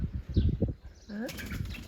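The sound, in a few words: chickens flapping wings in panic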